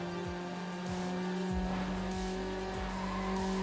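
Game audio from Need For Speed Underground: an upgraded car engine drones steadily while tires squeal repeatedly in short bursts, loud and close, with no voices.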